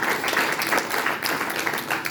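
A church congregation claps and applauds in praise of the Lord, a dense, steady wash of many hands at moderate distance lasting throughout, with scattered voices mixed in.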